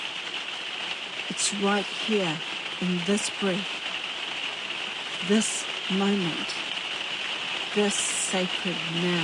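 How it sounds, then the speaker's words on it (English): Heavy rain pours outside in a steady, dense hiss that continues the whole time beneath a calm speaking voice. "Excuse the rain, it's getting really heavy out there right now."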